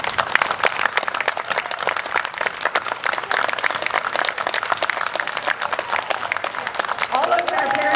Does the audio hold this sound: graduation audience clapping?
yes